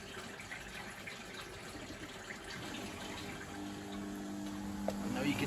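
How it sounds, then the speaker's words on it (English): A Dyson CR01 washing machine pump runs steadily under a rush of gushing water, with a low humming tone rising toward the end. "And now the pump's pumping again."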